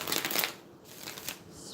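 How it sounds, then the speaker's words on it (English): A Rider-Waite-Smith tarot deck being shuffled by hand, with close, steady papery riffling and rustling bursts, strongest early and again briefly later, and no talking over it. "let me go ahead and shuffle and get this"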